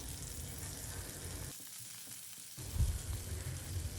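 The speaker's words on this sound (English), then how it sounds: "now we will fry the other side of the fish for 2 minutes or until they are well" Masala-coated pink perch pieces fry in a pan with a broad, steady sizzle that drops away briefly midway, then returns with a soft knock and continued crackling, close up and unaccompanied by talk.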